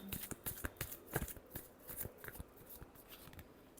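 Tarot cards are shuffled close up in a quiet room, a quick, irregular run of soft papery riffles and snaps that continues steadily for several seconds.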